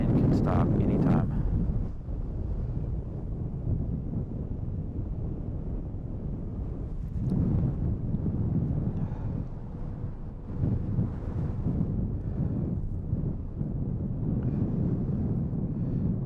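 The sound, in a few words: strong wind gusts blowing into microphone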